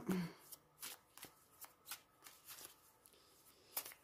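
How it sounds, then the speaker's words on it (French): Oracle cards are shuffled and drawn in soft, close riffles and flicks, with a few light taps spread through the stretch. "On va tirer donc trois cartes pour chaque pierre."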